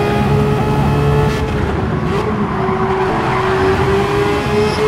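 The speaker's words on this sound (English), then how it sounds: "Kian drifting it round these corners" A Porsche Cup race car drifts through corners at Brands Hatch in Gran Turismo 7, its loud sustained tire squeal riding over a steady engine drone throughout.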